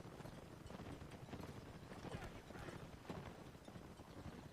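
Horse hooves clip-clop in a Napoleonic Wars line-battle video game, a faint, irregular patter of galloping steps with soft thuds over a busy background of distant battle noise.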